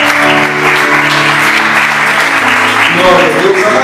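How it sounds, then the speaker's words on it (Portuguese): A church congregation applauds during a Friday praise service, loud sustained clapping throughout with voices and a musical tone mixed in beneath it. "Você pode aplaudir o Senhor?"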